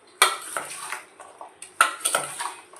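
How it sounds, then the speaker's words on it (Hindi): Spoon scraping and clinking against a bowl while mango pickle ingredients are mixed, close up, two main bursts of stirring with lighter clatters between them and no talking. "और इन सबको हम इसमें डाल देंगे और इसे अच्छे से मिक्स करेंगे।"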